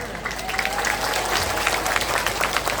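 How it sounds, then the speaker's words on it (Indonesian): An audience at an open-house gathering with a religious boarding-school leader present bursts into dense, steady applause that fills the whole stretch, with a faint background voice mixed in. "Tepuk tangan untuk Mas Ipang Wahid."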